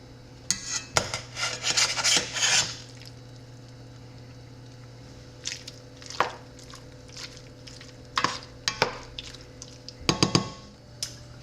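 Chopped tomatoes tipped into a cooking pot for fresh Ball Fiesta canning salsa, a close burst of wet scraping and plopping followed by scattered sporadic knocks and drips.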